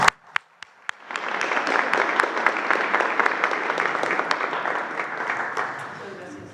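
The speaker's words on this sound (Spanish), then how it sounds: "Un aplauso." Applause from a gathered audience at a vaccination event, beginning with a few scattered claps then swelling into steady, dense clapping for several seconds before tapering, with some voices mixed in.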